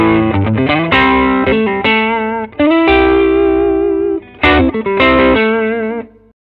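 Electric guitar played through an Ibanez Nu Tube Screamer overdrive pedal with all controls at noon, giving loud, overdriven chords and single notes in short phrases with brief pauses between them and no talking.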